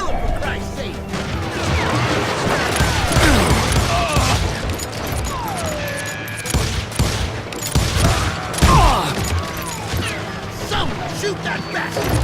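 Gunfire in the Western shooter Call of Juarez Gunslinger on PC: rapid volleys of revolver and rifle shots with crashes and ricochets in a loud shootout, while voices shout over the fighting.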